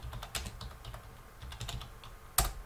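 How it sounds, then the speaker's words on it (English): Git command typed on a computer keyboard: quick, light key taps in an uneven patter, close and quiet, ending with one sharper, louder keystroke, with no talk. "So if I just type git branch"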